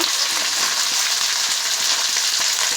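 Tomato and capsicum fry with onion in a pan for chilli paneer, giving a constant, close hiss of sizzling oil with faint stirring scrapes and no talking.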